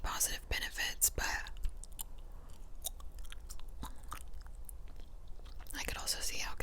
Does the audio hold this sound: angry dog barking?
no